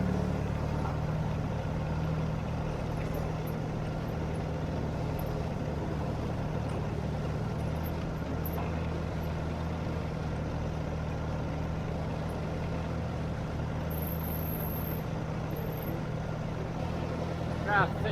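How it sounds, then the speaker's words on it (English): Steady low engine drone of a running tractor with a dirt scoop, continuous and fairly close, with a person talking over it. "I love my tractor."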